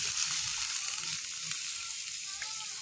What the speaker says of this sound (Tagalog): Lalagay tayo ng tubig.